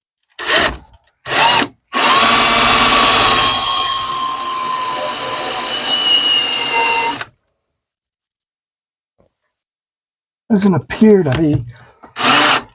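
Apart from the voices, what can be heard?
power drill boring through floor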